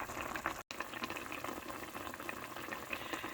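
Beef steak (bistek) simmering in a pot, the meat still tough: a quiet, steady bubbling and soft liquid burble throughout, faint and continuous, with no voices.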